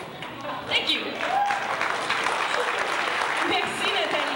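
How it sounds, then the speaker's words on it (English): Audience applause at a folk dance show, a broad continuous wash of clapping from a crowd that holds steady throughout, with some voices mixed in. "I was wondering if you guys can clap really, really loud to encourage us to dance even more"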